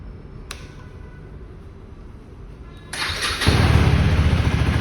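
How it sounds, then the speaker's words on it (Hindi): After a few quiet seconds a motorcycle engine fires up and its exhaust roars loudly and steadily, close by. "अब चलते हैं दोनों बाइक्स के एग्जॉस्ट साउंड के ऊपर, आपको सुनाता हूँ दोनों बाइक्स के एग्जॉस्ट साउंड"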